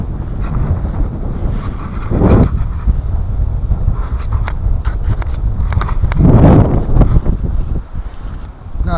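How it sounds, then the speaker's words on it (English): Cold wind batters a rainy campsite in high winds, a steady close roar buffeting the microphone, with two strong surging gusts swelling and fading; no one speaks. "the wind's too cold"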